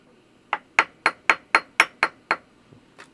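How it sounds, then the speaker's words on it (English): A loose piece of iron rattles and knocks inside an Olympia InfoGlobe, giving eight sharp, evenly spaced metallic clicks in quick succession, then a soft tap and one last click, close up with no voices. "here's what's in there that's rattling around. It's a piece of iron"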